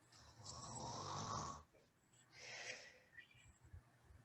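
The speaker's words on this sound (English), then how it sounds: "And a bonus, she snores." A woman snores on a theatre stage in a fairytale play. Two long, loud, rasping snores are separated by a pause, and softer breathy sounds trail after them.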